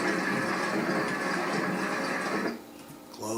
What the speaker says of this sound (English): Clothes dryer again.